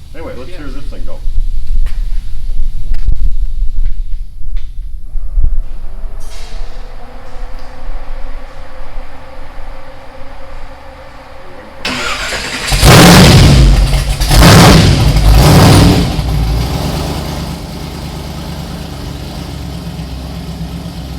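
Project car engine running, a steady mid-pitched drone that stops, then restarts with a loud burst of revving in the middle before settling to a quieter idle, with people talking.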